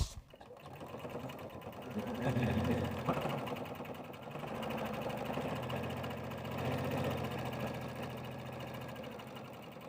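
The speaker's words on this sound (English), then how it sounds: "I'm going to be sewing down both sides and across the bottom, keeping my top of it open." A sewing machine runs in a continuous stitching burr, stitching fabric sides together, its motor humming steadily with slight swells in speed across the whole stretch.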